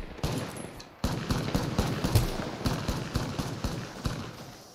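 Rapid bursts of automatic gunfire in the Apex Legends video game, dense rattling volleys that run almost unbroken for several seconds after a brief lull, loud and close.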